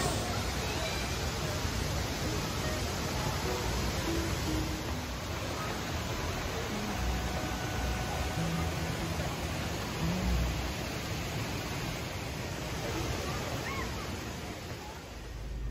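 Waterfall pouring into a swimming hole at South Cumberland State Park, a steady full rushing roar that holds nearly unchanged, with faint voices under it.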